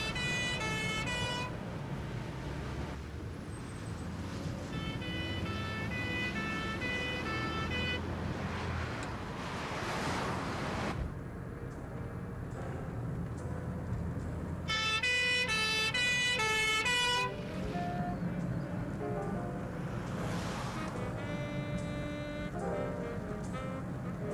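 An ambulance siren wails and yelps in repeating cycles, growing louder as it passes, over the rumble of traffic.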